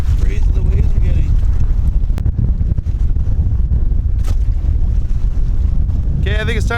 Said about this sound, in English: Look how crazy the waves are getting.